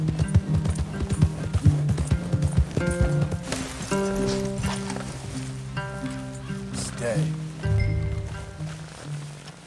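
Rhythmic clip-clop of horse hooves in the video game Red Dead Redemption 2, over a bed of music and soft rustling, with occasional tonal effects.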